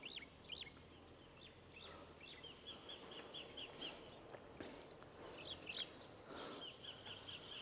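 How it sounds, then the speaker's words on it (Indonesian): Repeated high bird chirps and short song phrases over steady outdoor ambience in a valley near Malang, Indonesia, moderately distant, with occasional louder calls. "Suara-suara burung terdengar jelas tuh."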